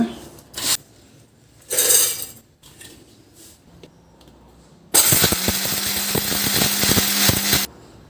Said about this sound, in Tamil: ஆறுனதை வந்து நம்ம கொஞ்சம் கொஞ்சமாக எடுத்து மிக்சி ஜாரில் போட்டு நல்லா குறை குறைன்னு அரைச்சி எடுத்துக்கலாங்க